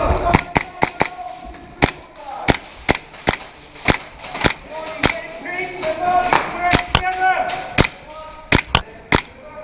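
Rapid, sharp snapping shots from an ICS BLE XFG airsoft rifle, sometimes fired singly and sometimes in quick clusters. They ring out close and loud across the whole stretch, with people talking in the background.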